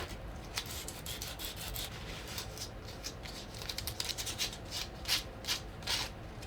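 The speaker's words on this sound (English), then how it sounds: "You can round over everything with a little bit of sandpaper as well." Sandpaper rubbing over the wood of a Les Paul Junior guitar body, soft quick scratchy strokes repeating in an uneven patter, close and faint, no talk.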